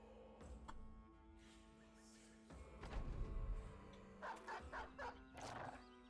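Warhound dogs barking in the tactical fantasy game Battle Brothers, with a few short, evenly spaced barks near the end over a low battle and music backdrop.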